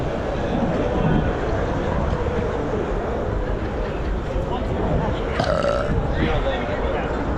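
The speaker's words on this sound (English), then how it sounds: "I'm burping on camera." Person burping during a bike polo match at a 2023 North American tournament, a low belch buried under constant crowd noise and nearby chatter.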